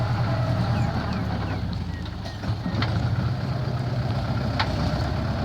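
A large tractor, newly repaired, plowing a rice paddy with termite mounds: a loud, steady low engine drone close by, with wind buffeting the microphone.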